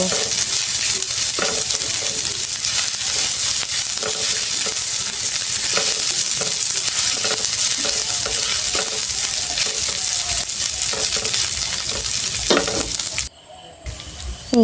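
Turmeric and chili powder frying and being stirred in a pan, a loud continuous sizzle close by with regular scraping strokes that cuts off abruptly near the end.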